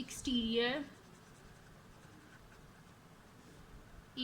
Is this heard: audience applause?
no